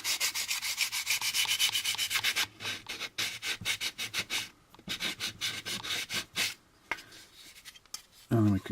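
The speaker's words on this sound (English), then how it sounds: "you want to roll the sandpaper sort of over top of that seam" Sandpaper rubbing back and forth over the seam of a round plastic part on a 1983 AMT U.S.S. Enterprise model kit, a close, steady rapid scratching rhythm that breaks into shorter strokes.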